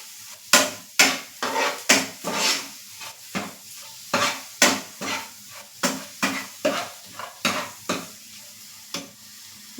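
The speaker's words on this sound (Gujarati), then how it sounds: "બધા મસાલા એડ કરી અને આપણે બરાબર મિક્સ કરી લેશું" Repeated scraping stirs spices in a pot of dal palak, roughly two per second in a steady rhythm, close and clear with no talking.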